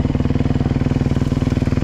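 An enduro motorcycle engine runs close and loud in a fast, even pulsing beat, a steady throaty putter that holds at one speed rather than climbing, with no talk over it.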